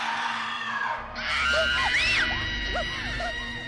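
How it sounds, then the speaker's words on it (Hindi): Loud, frantic screams and shrieking cries rise and fall repeatedly over a dark, droning backdrop in a Hindi horror story. "थोड़ी देर बाद रघु, मोहन और देव के कमरे में जोर जोर से चीखें सुनाई देने लगी"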